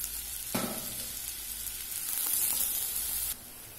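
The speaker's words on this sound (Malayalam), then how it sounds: "ഇപ്പം സവാള ഏകദേശം വഴണ്ടു വന്നിട്ടുണ്ട്" Chopped onions sautéing in oil in a pan for a curry, a steady sizzle and crackle with a brief burst of stirring partway through, close and alone with no talking.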